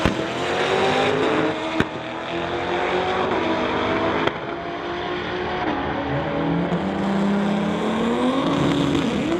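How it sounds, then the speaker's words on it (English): A 2016 Corvette and a 2007 Mustang drag race side by side on a strip, loud roaring engines with rising and falling revs and gear changes, plus a couple of sharp bangs. "Ken Koosman from Abbotsford's 2016 Corvette called White Cocoa going against Ken Smith from Chilliwack in the 2007 Mustang."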